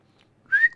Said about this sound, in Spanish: Con las gomitas no puedo silbar.